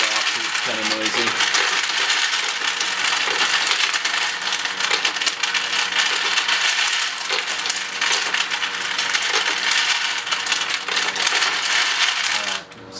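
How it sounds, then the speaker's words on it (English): A brass case feeder drops 9mm cartridge cases down a tube in a continuous rattling, clinking stream, loud and close, with no talking. "turn my case feeder on. What it's going to do is it's just going to drop them down this tube"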